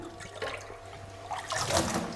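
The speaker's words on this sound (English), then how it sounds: "I will add now more water" Water poured into a car radiator hose while checking for coolant leaks: a short, close splashing and gurgling pour that swells louder toward the end, with no talk.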